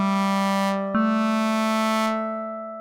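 An FM synth patch from Mela 7's NFM-inspired Matrix module holds a bright, buzzy harmonic tone, then restarts on a second sustained note that slowly fades, with no talking.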